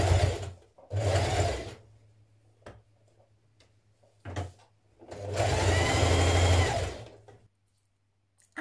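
A sewing machine stitches the collar of a Style Arc Teddy Top in several short bursts of rapid mechanical whirring, separated by quiet pauses.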